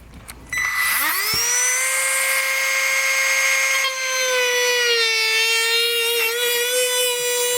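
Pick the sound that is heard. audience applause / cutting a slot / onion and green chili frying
cutting a slot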